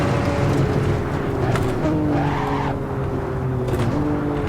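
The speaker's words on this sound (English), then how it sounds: "You can hear the amount of times I'm locking the brakes" Locked brakes make the tires squeal and skid in Assetto Corsa, a steady engine drone with drawn-out tonal screeches rising and falling under it, loud and continuous throughout.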